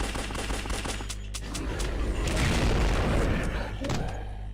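Shotgun fire in the video game Larva Mortus, heavy booming shots in a dense run of blasts and impacts, loud and close with game effects layered throughout.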